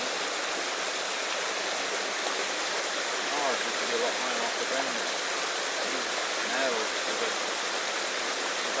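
A river in Cornwall rushes steadily over its bed in a constant watery hiss, with someone talking over it.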